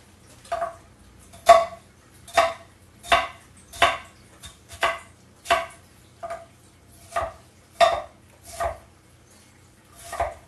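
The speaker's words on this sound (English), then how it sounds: "I'm going to cut this smaller than any of the onion I've cut today because we don't want giant chunks of red onion in our guacamole" A knife chops a red onion finely on a cutting board for guacamole: about a dozen crisp, evenly spaced strikes, close and clear, with no talking.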